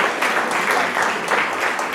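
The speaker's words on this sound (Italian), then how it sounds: "Perfetto, un applauso e lascio la parola." A conference audience at a Roccavaldina tomato day event bursts into steady, close applause, dense clapping that fills the whole stretch without speech.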